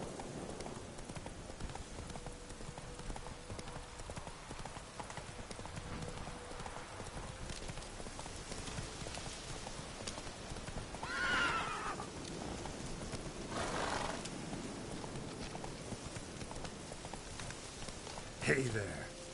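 Roach, a horse in the Witcher 3 video game, walks with soft, steady clip-clopping hooves over quiet rain-like ambience, with a brief snort or whinny near the end.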